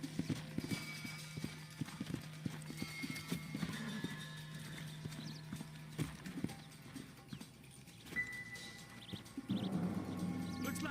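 Horse hooves clip-clop at a walking pace in a video game, near and steady, with occasional snorts and a few birds chirping in the background.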